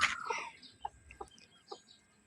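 A few soft, short clucks from chickens, spaced irregularly and fairly quiet, with a brief rustle at the start.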